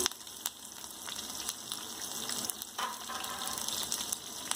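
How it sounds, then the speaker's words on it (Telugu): Peanuts and urad dal frying in oil in a pan, a steady close crackling sizzle with scattered sharp pops and stirring taps throughout, no voices. "పల్లీలు అన్నీ వేసుకొని బాగా వేయించుకోవాలి"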